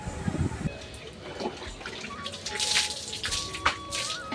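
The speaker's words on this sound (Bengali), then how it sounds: "তো দেখো এদিকে মাথায় জল দিয়ে দিচ্ছি আর খুব ভালোভাবে ওদের গা ডলে দিচ্ছি।" Water splashed and poured over animals during a bath, with irregular drips and splashes close by, under a few faint voices.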